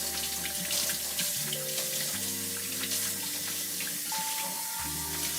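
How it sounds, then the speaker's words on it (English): Freshly harvested, unsprayed lettuce leaves are rinsed under a running tap, with a steady, close rush of water splashing continuously over soft background music. "Just want to take them off and wash them really well."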